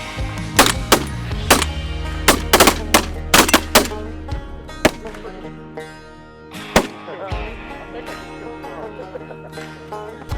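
Shotguns firing during a waterfowl hunt with a spinning decoy, a loud burst of several sharp close blasts in quick succession, then a few scattered later shots, with people talking in between.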